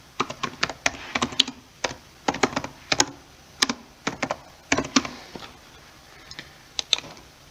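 Python code is typed on a computer keyboard, with close, crisp key clicks coming in quick irregular bursts separated by short pauses, alone and without voices.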